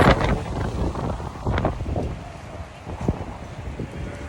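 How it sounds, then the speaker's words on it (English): Strong wind blows outdoors by a Lowe's store, buffeting the microphone with loud, gusty rumbling and rustling throughout. "So windy today."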